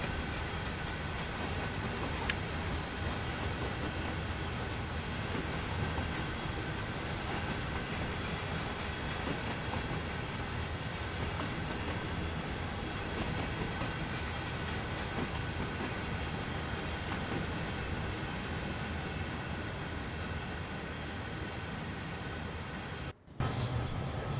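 An SD40-2 diesel locomotive hauls a train along the line from San Bernardino toward Hesperia, its steady rumble and rail noise filling the whole stretch loudly and continuously, with only a brief dropout near the end.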